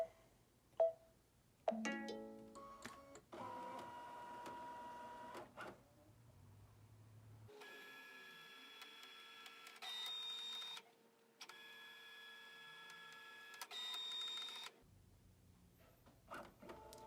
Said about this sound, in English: our machine is actually capturing an image of what's in our embroidery hoop so that we can make sure our quilting lands in just the perfect place